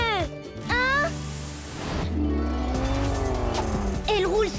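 A very heavy truck speeds along in an animated episode, its loud engine revving and rising in pitch with squealing tires, while voices talk over it.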